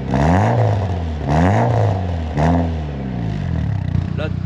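A classic 2-litre inline-four car engine revs hard and loud, revving up and falling back in three or four swells at close range, with a brief clatter near the end and no voices.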